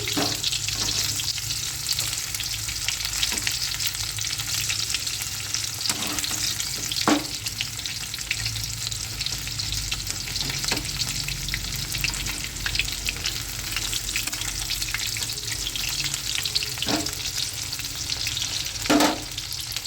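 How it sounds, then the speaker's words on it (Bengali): Pakoras deep-frying in oil, a continuous bubbling sizzle with scattered louder crackles and pops, close by and with no voices. "পকোড়া ভাজছি"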